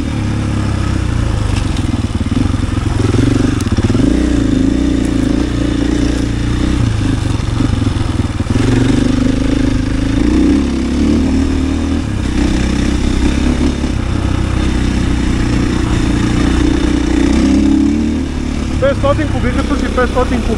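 A 2022 KTM EXC-F 500 enduro motorcycle engine revs and roars continuously at close range while riding, loud and rough, with rattling clatter throughout.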